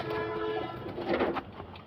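Pigeons being fed give a few soft, close coos over a short stretch, with a low murmuring throat sound and no talking.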